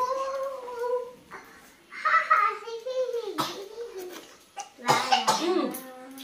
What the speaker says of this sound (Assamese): তোমাৰ কাহ হৈ আছে নহয়